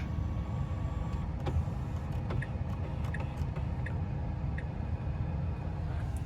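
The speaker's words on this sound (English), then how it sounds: "If you want to adjust the steering position, you can use this left button stroke for it to go up, down, inside or out." Tesla Model 3 electric steering column adjusting, a faint motor whir inside the car with a series of soft ticks and clicks over a low cabin hum.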